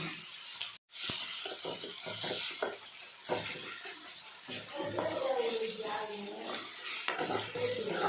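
Onions and tomatoes sautéing in a pan for brinjal thokku, with a steady sizzle, repeated scraping stir strokes and occasional clinks of the utensil against the pan, loud and close throughout.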